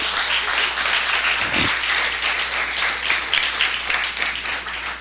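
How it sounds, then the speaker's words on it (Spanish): Congregation applauding during a Spanish-language church service, a steady, dense wash of many hands clapping continuously throughout, fairly loud and filling the room. "Ofrezca un fuerte aplauso al Señor."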